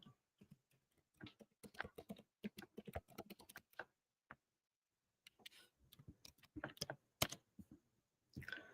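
Someone types on a computer keyboard in quick bursts of crisp, close clicks, pausing for about a second before resuming at an uneven pace in an otherwise quiet room.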